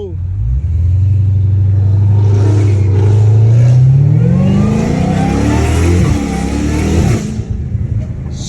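A straight-piped Dodge Challenger Hellcat Redeye revs up close, its deep rumble climbing into a rising, rasping roar before the throttle lifts and the engine settles back, with people talking nearby.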